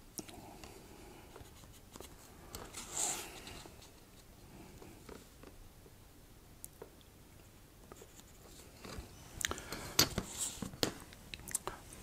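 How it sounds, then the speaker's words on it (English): A small pencil scratching a centre-line mark on a model roadway, soft brief scraping strokes close up amid quiet handling noises, with low talk around them. "putting a small pencil mark just to mark where the roadway centres are"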